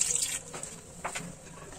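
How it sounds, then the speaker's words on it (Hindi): A little water is poured into a cooking pan of chicken and vegetables, giving soft, faint trickling and dripping with a couple of brief splashes and no speech. "थोड़ा सा पानी ऐड करेंगे"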